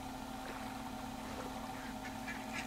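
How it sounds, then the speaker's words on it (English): A duck in the video game Firewatch quacks faintly a few times against a steady low electronic hum, distant and quiet, with no talking. "One noisy duck."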